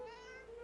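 A cat meows in the fantasy role-playing game Divinity: Original Sin 2, one short, close, clear mew on its own.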